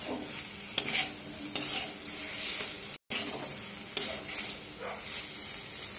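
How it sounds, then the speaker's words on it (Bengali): Raw potatoes fry in spice masala in a pan for Vizag-style egg biryani, giving a soft, steady sizzle broken by several sharp stirring scrapes against the pan and a brief gap of silence. "যেহেতু আলুটা আগে ভাজা হয়নি তাই মশলার সাথে একটু ভেজে নেব।"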